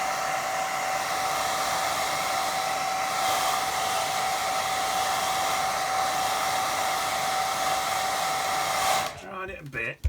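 Hair dryer blowing steadily on a watercolour painting of a slow-flowing river, a constant loud whooshing hum with a faint whine that runs for about nine seconds and then cuts off.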